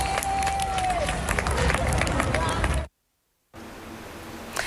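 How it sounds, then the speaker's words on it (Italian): Tourists and residents in Venice near the Ponte degli Scalzi break into loud applause and crowd noise after a rescue. The clapping lasts about three seconds, cuts off abruptly, then gives way to quieter background ambience. "applausi"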